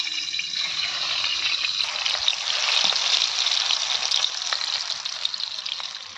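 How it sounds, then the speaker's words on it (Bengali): Eggs coated in salt and turmeric fry in hot oil, giving a continuous close sizzle dotted with small crackling pops that swells slightly midway and holds steady. "এবার এর মধ্যে নুন হলুদ মাখানো ডিমগুলো ভেজে নেব।"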